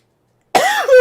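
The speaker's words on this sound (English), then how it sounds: "Sometimes I'm so rude to cough into the camera, I just blew out your eardrums." A single loud, harsh cough lands right up close to the microphone after a moment of silence.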